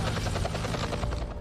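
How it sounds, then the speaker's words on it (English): A rescue helicopter near a beach makes a steady, fairly loud rhythmic thumping of rotor blades over a droning engine, with no voices. "They had to call a helicopter to pick Tracy up off the beach and take her"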